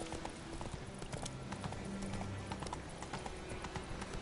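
Hooves of a galloping horse in The Witcher 3 pound in a fast, steady clip-clop rhythm, close and clear over quiet game ambience and music, with no talking.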